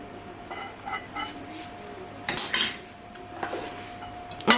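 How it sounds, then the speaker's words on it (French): A metal whisk clinks and scrapes against a bowl while beating an olive oil marinade for tandoori chicken fillets, irregular light taps and brisk rattles, close and quiet with a few sharper strikes. "on va le faire au fouet"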